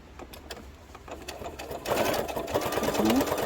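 A sewing machine running in short bursts, stitching fabric with a 0.5 cm seam allowance while making a padded round zipper pouch, close and fairly quiet, with a voice talking over it.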